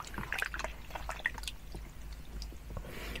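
Water trickles and drips softly in close, faint splashes and small wet squishes as a facial scrub is rinsed off skin.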